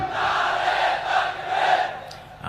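A large crowd at a Bangladeshi religious-political gathering roars "Allahu Akbar" in unison in response to a takbir call, a sustained, loud mass shout swelling in two or three waves.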